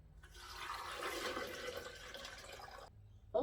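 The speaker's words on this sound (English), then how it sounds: "Next up, I'm adding 1 litre or 4 cups of water." A litre of water gushes into a blender jug for homemade nut-free plant milk, a continuous rushing pour lasting about three seconds, close and fairly quiet, ending in a small clunk.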